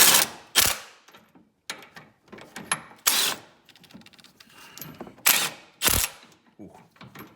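A hand ratchet tightens a bolt on the front suspension of a 1999 Dodge Durango, with short bursts of clicking and several sharper metallic clanks, close by, separated by quiet gaps and faint shop noise.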